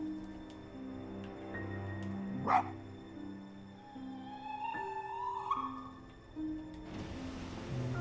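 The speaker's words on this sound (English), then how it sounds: "I've got a spirit bark? What does that do?" A spirit fox bark from the video game Spirit of the North, a single sharp yip near the middle rising out of soft ambient game music and tones, with a brief bright swell toward the end.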